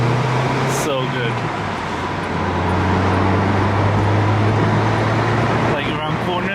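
An Acura RSX driving on the road, a steady low engine drone with road and tire rumble filling the cabin, continuous and fairly loud, with brief faint voice sounds near the start and end.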